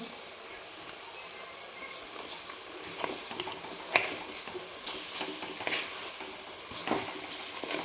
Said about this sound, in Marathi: आपण एक चमचा हळद टाकून घेऊ आणि नंतर दीड चमचा मीठ आहे हे मीठ टाकू आणि ह्याला छान हलवून घेणार आहे